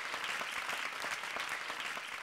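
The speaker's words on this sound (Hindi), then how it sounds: "जोरदार तालियां दोनों टीम्स के लिए" Studio audience at a comedy show claps steadily for both competing teams, a dense, even wash of applause lasting a couple of seconds with no speech.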